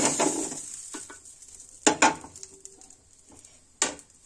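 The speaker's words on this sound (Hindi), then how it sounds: "देखिए हमारा आलू अब गोल्डन फ्राई हो चुका है, इसे हम निकाल देंगे।" Potato chunks fry golden in hot oil and are lifted out with a utensil: a brief sizzle at the start, then sharp metal clatters against the pan and a few quieter scrapes, close by and without speech.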